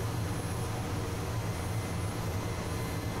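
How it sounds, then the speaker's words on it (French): A Mi-8 helicopter lifting off gently in a flight simulator, its steady engine and rotor drone droning evenly at moderate level with no other sounds. "l'hélicoptère est déjà trimé. On va y aller. On décolle doucement."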